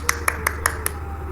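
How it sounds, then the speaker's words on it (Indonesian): A classroom gives a short round of applause for a student named Lisa during a peer-teaching session, five evenly spaced, crisp claps over a low steady room hum, then quiet. "Tepuk tangan dulu untuk Lisa."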